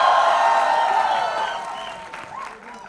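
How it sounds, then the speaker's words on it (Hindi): Audience at a Bollywood film trailer launch breaks into loud applause that gradually fades over a few seconds. "इसके लिए ताली बजा दो एक बार यार"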